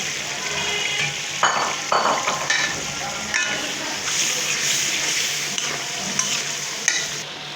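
Tilapia pieces fry in a spice paste of turmeric, coriander and chilli powder with salt, a constant crackling sizzle broken by several scraping stirs and clanks of a spoon, close and fairly loud.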